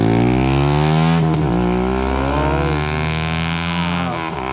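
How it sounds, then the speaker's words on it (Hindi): A Yamaha R15 V3 motorcycle with an aftermarket exhaust revs hard as it passes close by. Its loud, sustained, buzzy tone rises and falls in pitch across the pass, and no one speaks. "आप बाइक को लेकर जा रहे हैं, आप देखेंगे इसका आवाज।"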